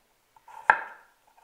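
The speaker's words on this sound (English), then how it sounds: "Most of cooking is chopping anyway." One short, crisp chop of a knife through food on a board, close and isolated, with a faint tap before it and quiet after.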